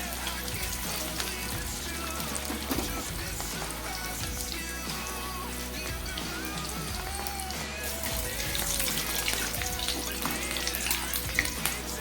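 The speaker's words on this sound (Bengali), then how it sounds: "একটা গোটা আলু দিয়েছিলাম, 4 টুকরো করে নিয়েছি। এটাকে একটু ভেজে নেব।" Potato pieces, one whole potato cut into four, fry in hot oil while preparing a vegetarian green-jackfruit curry, giving a steady, close sizzle and crackle throughout with tonal music-like sounds layered over it.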